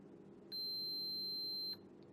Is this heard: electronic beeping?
yes